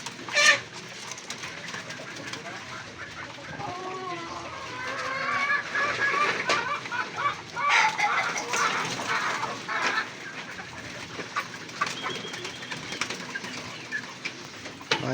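Pigeons coo and flutter in a loft, soft layered calls and wing rustles close by, with young birds among them, continuing steadily with no talking.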